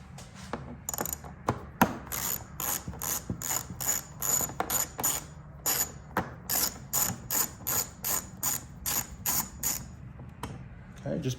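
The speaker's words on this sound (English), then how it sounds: "So I'm going to go ahead, loosen up all these bolts, and then we're going to take that off." Ratchet wrench loosening the windshield bolts on a 2016 Harley-Davidson motorcycle, a long run of quick, evenly spaced metallic clicks in bursts, close and fairly loud, with brief pauses between sets.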